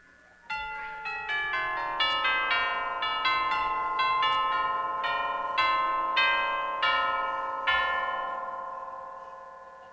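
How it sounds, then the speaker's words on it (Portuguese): Tubular bells strike one after another in a descending run, each chime ringing and overlapping into a sustained metallic shimmer. "Carrilhão."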